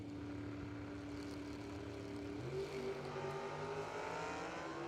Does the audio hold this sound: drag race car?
yes